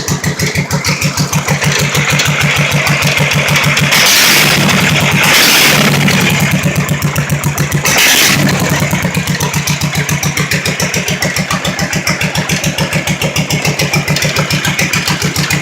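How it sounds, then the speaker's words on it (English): A hotrod lawnmower engine idling low, loud and close, with a fast, even chugging pulse that runs throughout and a few brief surges of rougher noise partway through. "I do have a low idle. Did it that way on purpose because it sounds cooler when it's got a lower idle."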